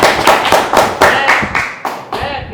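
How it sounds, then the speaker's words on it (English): Studio audience clapping on a talk show, a series of about six bursts of hand claps in quick succession, fairly loud and close, each swell fading before the next. "Clap it up for the validation"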